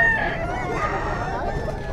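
A black-eyed rooster crows among caged birds, chickens and ducks at a pet market in Bocaue, Philippines, its drawn-out call rising over steady background clucking and crowd noise, with no one speaking.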